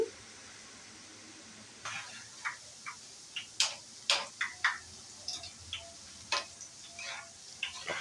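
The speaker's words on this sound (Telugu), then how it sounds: "తిప్పుకుంటూ ఉంటే చక్కగా ఫ్రై అవుతుంది బూంది" Boondi batter fries in hot oil for crispy spicy boondi made at home, giving soft, quiet sizzling with irregular sharp ticks and pops spaced a second or so apart.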